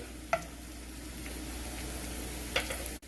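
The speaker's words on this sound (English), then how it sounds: "take a wooden spoon and just mix this around" Chopped onions soften and sizzle in a pot for a one-pot tomato pasta sauce, stirred with a wooden spoon: a steady low frying hiss with two brief scraping clicks of the spoon, fairly quiet and close.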